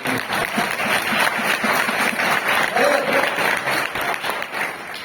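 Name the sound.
audience applause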